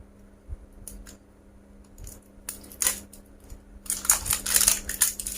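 Sealed facial wash packaging being opened by hand, with crinkling, tearing and plastic rustling that builds from scattered crackles to a denser burst of handling noise near the end, close and fairly quiet.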